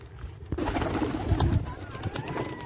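Pigeons at a pigeon house coo and stir close by while grain and bread are scattered for them, with soft wingbeats and shuffling mixed into steady background noise.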